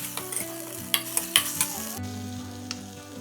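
Capsicum and chilli sauce sizzle steadily in a hot pan, with a few sharp clicks and scrapes as the food is stirred.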